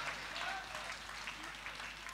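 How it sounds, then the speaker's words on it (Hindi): Audience in a hall applauding after a Hindi poetry recital, a steady faint wash of hand clapping that holds through the whole moment without a break. "एक बार पूरा सदन जरा हाथ ऊपर करके जोरदार तालियां बजाइए कविता के लिए"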